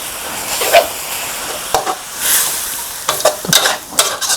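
Thai basil chicken with glass noodles stir-fried after a splash of water, giving a steady hiss with irregular bursts of scraping and clattering from stirring, fairly close and with no voices.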